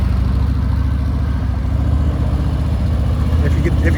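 A 2021 Harley-Davidson motorcycle, a Road Glide Limited or Pan America, runs steadily nearby with a low, continuous rumble and slightly rising revs during a test ride.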